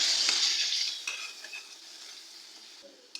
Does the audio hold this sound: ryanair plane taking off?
no